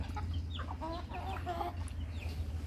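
Upgraded native chickens cluck in a short run of close, repeated calls over a steady low background hum, with no talking.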